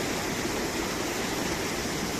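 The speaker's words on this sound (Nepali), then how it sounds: "अब यहाँदेखि खोला आइरहेको छ" A river stream flowing where a fishing trap is set, a steady, unbroken rushing hiss heard close and even, with no voices.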